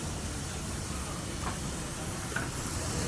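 Constant crackling sizzle of chicken thigh deep-frying in hot oil, close and busy, with faint brief pops and no talking.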